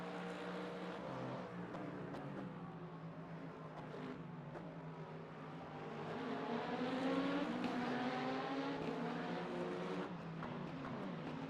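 A hypercar races past, its engine a harmonic whine that swells to a loud, close peak midway before easing off, with a steady undertone of other engine noise and no talk.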